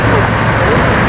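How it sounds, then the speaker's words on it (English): A rare Bugatti Veyron Sang Noir supercar in race mode passes along a city street, its steady, loud broadband roar blending with surrounding traffic and crowd chatter for about a second. "Here comes the Veyron"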